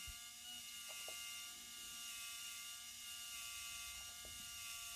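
A small motor lifting the axle on a Scania 8x4 model truck hums and whines steadily, with a couple of faint clicks of gearing partway through; low level and uninterrupted by speech.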